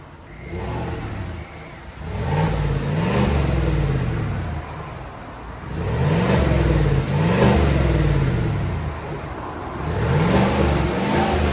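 A 2024 Chevy Silverado RST's 5.3-liter V8 with stock exhaust rumbles at idle, then revs up several times in rising and falling surges, a deep but fairly subdued exhaust tone close by.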